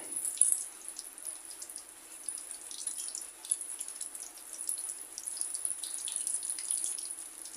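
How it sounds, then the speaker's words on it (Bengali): Chicken leg piece cutlets fry in a generous amount of oil in a small kadai, giving a steady, close hiss and crackle that runs throughout with slight swells and no talking. "লাল লাল করে ভেজে নিব"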